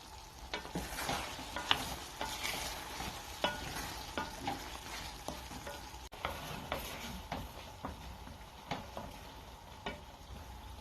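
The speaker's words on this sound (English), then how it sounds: "I'll let it bubble for a minute" A pot of apple pie filling bubbles and sizzles steadily, with soft irregular pops and ticks scattered throughout, fairly quiet and close.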